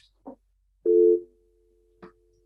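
A telephone line gives a single loud busy-signal tone that holds briefly and then fades to a faint steady tone. A few short clicks come before and after it, with no talking.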